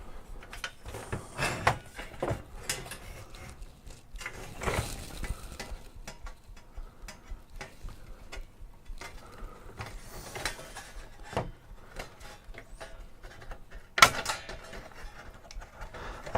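Screws being removed from a Hantarex Polo arcade monitor during repair, heard as scattered small metallic clicks, scrapes and taps from handling, with a sharper knock near the end, close and fairly quiet.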